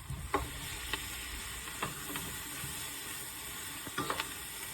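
Sliced white button mushrooms sizzling in butter in a pan, a soft continuous fry with scattered stirring taps and scrapes.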